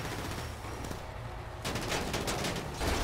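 Game gunfire from Grand Theft Auto V, the Vapid Riata showcase, with dense bursts of shots rattling throughout, growing louder and busier in the second half.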